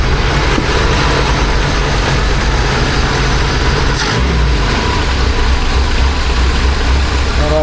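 A restored 1976 BMW 2002 engine idles loud and close, a steady low rumble that drops to a lower, smoother idle partway through, with no talking.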